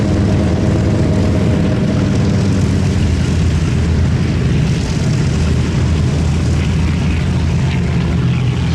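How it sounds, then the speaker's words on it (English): A vintage propeller warbird of the Red Bulls display team, a B-25, P-38, P-51 or Corsair, takes off on the hard runway at Sywell, its engines roaring loud and near in a sustained, unbroken drone. "Here he comes, right to left, taking off on the hard runway"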